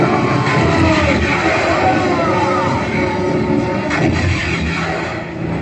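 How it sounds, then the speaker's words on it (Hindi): Booming cannon fire effect at an Independence Day laser show at IIT Kharagpur, dense and loud, rumbling continuously with heavy low-end blasts over several seconds. "तोप के गोले दाग दिए।"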